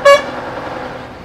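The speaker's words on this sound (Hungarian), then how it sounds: "Vasúti átjárót fokozott figyelemmel és duda szóval közelítjük meg." A short loud honk from an old Skoda's car horn at a railway crossing, one bright blast followed by engine and road noise inside the car.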